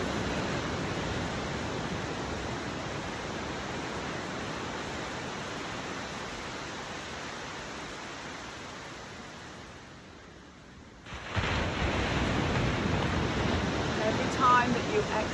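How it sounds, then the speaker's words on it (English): Ocean waves wash in a steady broadband roar, faint and soft, dipping briefly before a louder surge returns near the end, with no talking over it. "Listen to the waves if you can."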